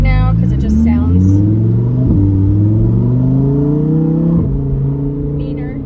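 A 2022 Lamborghini Huracan EVO RWD Spyder in sport mode pulls at low speed, its engine rumbling loud and close as the pitch climbs through two rising gear pulls with a brief shift break between them.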